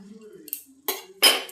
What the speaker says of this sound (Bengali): টমেটো কুচিগুলো দেব